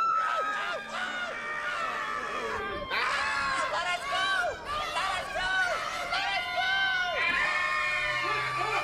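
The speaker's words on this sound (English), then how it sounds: "They just wouldn't stop screaming!" A crowd of children screaming and shouting in alarm at someone in a costume suit, a dense, shrill chorus of overlapping voices that stays loud and close throughout.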